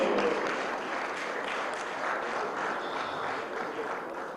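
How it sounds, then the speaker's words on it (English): An audience at a civil society roundtable in a conference hall gives sustained applause, an even crowd of clapping hands at steady loudness throughout, with no speech. "A round of applause as she's coming."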